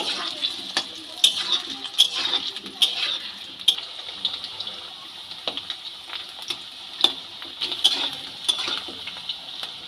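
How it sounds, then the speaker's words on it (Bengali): Two potatoes frying in hot oil in a pan until browned, a bright crackling sizzle punctuated by frequent sharp spatula scrapes and clanks against the metal, close and lively. "আলুগুলোকে খুব ভালো করে লাল লাল করে ভেজে নেব"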